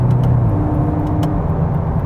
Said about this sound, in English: this is still a very nice sounding engine